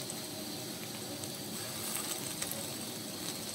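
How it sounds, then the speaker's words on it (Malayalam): Fresh curry leaves with chopped ginger and garlic sizzling in hot oil for beef curry, a faint, steady crackle with small pops. "ഈ സമയത്ത് ഇതിലേക്ക് നല്ല ഫ്രഷ് കറിവേപ്പിലയും കുറച്ച് ഇഞ്ചി വെളുത്തുള്ളി അരിഞ്ഞതും കൂടി ചേർത്ത്"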